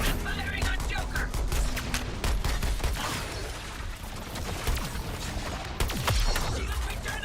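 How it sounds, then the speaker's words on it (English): Dense, continuous video game gunfire with rapid bursts and booming shots, loud and close, while a voice speaks over the shooting. "Firing on Joker"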